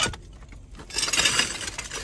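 Broken glass items from a dumpster are handled and shifted, producing bright clinking, jangling and crunching shards that swell in the second half, close and fairly loud with no talking.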